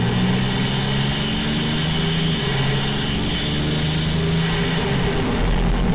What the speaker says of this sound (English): if you want your BMW M340i to sound like this